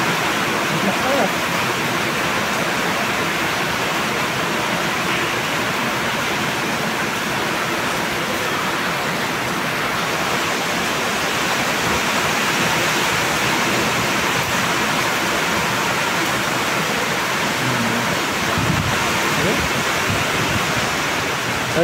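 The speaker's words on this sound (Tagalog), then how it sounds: "Narinig niyo ba yung lakas ng ulan?" Heavy wind-driven rain pours steadily, a dense, constant hiss that stays loud and unbroken throughout, with faint voices now and then beneath the downpour.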